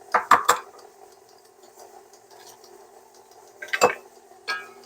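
Eggs for an almond pound cake cracked against a mixing bowl: a quick cluster of sharp taps and clinks, a quieter stretch with a faint mixer hum, then another crack and tap near the end.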